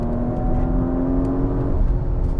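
A Porsche Macan GTS 2021 with a turbocharged 380 hp engine revs steadily, a loud sustained drone with a held tone, heard alone with no talking.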